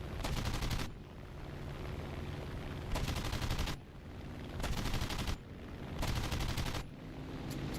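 Aircraft guns firing in War Thunder, with long sustained bursts of rapid automatic fire broken by short pauses, loud and close, and no talking.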